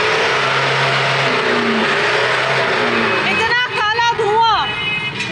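Car on a road in Punjab, its engine revving while it puffs heavy smoke; a steady mid-pitched engine rumble, with voices talking over it toward the end.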